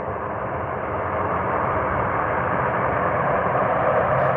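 A large airliner landing at a small airport roars with engine reverse thrust, a loud, dense, steady rumble building slightly throughout with no voices.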